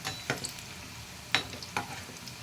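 Bottle gourd kofta frying in hot oil, a faint steady sizzle broken by a few sharp stirring clicks and scrapes of a utensil against the pan.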